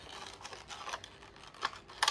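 Plastic packaging around a unicorn makeup sponge is torn and crinkled open close by. The sound is quiet rustling, scraping and crackling with a few sharp snaps at the end.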